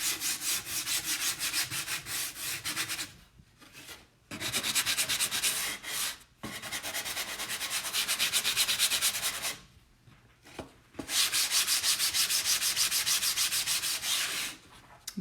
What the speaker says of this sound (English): So we are just sanding a bit.